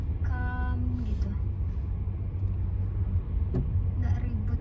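Cars idling and creeping in a Sunday traffic jam on a road toward London, a low steady engine rumble heard from inside a vehicle, with people talking over it.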